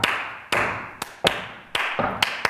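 Stomps beat out a 12-pulse rhythm pattern: sharp, resonant thuds at uneven spacing, some followed closely by a lighter tap, each ringing and decaying in a reverberant room, with no voices.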